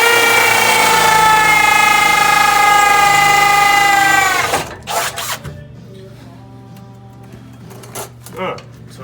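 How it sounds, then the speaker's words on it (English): A power drill whines steadily while boring underneath a 2006 Chevrolet Silverado during a two-piece driveshaft conversion, then winds down after about four seconds, followed by a few light clanks and quiet handling noises. "Hopefully you'll be able to see where I'm drilling here."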